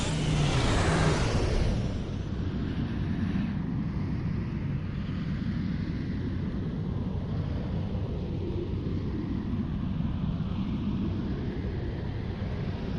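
The quantum slipstream drive engaging in the game Star Trek Online: a loud, rushing roar that swells in the first two seconds, then settles into a sustained, wind-like whoosh with a heavy low rumble, with no talking.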